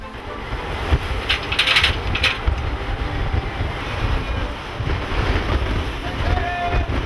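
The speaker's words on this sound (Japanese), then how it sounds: "沖に出た金剛を待っていたのは、晴天ながら台風の影響を受けた高い波。" High swells stirred by a typhoon surge around the Aegis destroyer Kongo at sea, a broad rush of wind and water with splashing bursts and steady hull noise, continuous and fairly loud without distinct voices.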